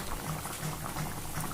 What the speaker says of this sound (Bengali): বন্ধুরা, আমাদের এটা মনে হয় ফুটে উঠেছে